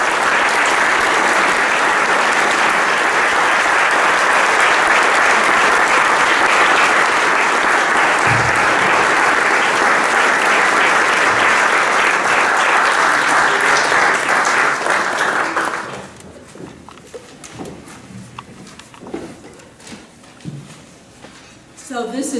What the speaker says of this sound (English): So please join me in applauding Marjorie on this most well-deserved honor.